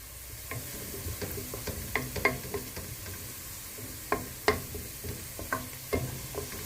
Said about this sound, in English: you have to keep stirring until you get the desired color that you want